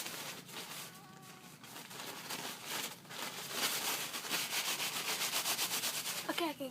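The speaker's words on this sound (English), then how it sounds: "Just rub them together." Layered tissue papers rubbed together by hand, a steady close scratchy rustling that builds into a faster rhythmic rubbing, with faint talk in the background.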